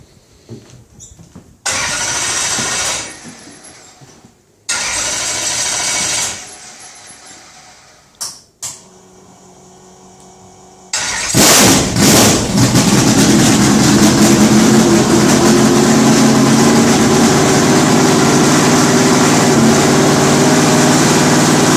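A 1957 Corvette race car cranks in several short bursts with pauses between, then fires and settles into a loud, steady, rumbling idle heard up close with no talking.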